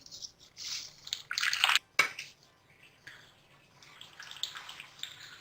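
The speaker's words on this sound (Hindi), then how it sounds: "यहाँ स्पैगेटी जो है वो बॉयल हो चुकी है, मैं छान लूंगी।" Boiled spaghetti is poured through a strainer into a bowl, giving bursts of splashing, pouring water and a clatter of metal, then softer dripping and trickling close by.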